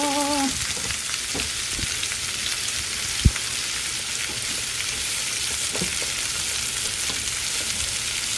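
A loud, steady sizzle of sautéing in oil left over from frying fish, crackling evenly throughout, with a single sharp click near the middle.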